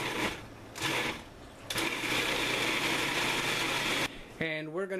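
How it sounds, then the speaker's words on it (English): A blender grinds poblano and jalapeno peppers with garlic in bursts, a whirring motor that starts, stops and runs steadily for a few seconds, with a person speaking briefly between pulses. "we're going to start grinding that up"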